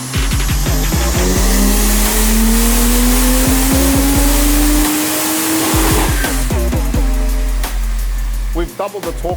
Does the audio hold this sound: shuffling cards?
no